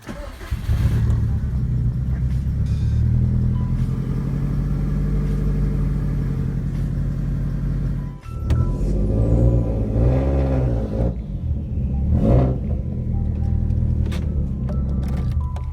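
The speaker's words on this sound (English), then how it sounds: "I'm gonna turn on the car and drive on top of them" A 2004 Subaru WRX STI engine cranks and starts, then idles and revs loudly up close, with a brief dip and a rougher surge as the car creeps forward onto bricks, no talk heard.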